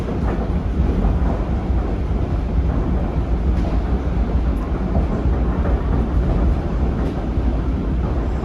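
Pisa Mover autonomous airport shuttle train runs between the station and the airport, a steady loud rumbling roar heard from on board with no talk.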